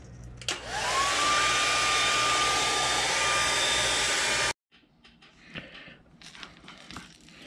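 A heat gun heat-sets paint on a crankbait lure with a click and a loud, steady blowing whir that rises in pitch as it spins up. It cuts off sharply after about four seconds, leaving quiet handling noises.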